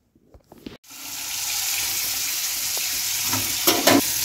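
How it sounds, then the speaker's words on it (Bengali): Sattu chilla pancakes with potato fry in a pan, starting with a few faint clicks and knocks before a loud, steady sizzle takes over, broken by occasional scraping stirs near the end. "এখানে এখন অলির জন্য বানাচ্ছি ছাতুর চিল্লা"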